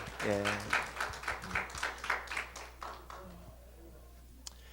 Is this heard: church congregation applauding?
yes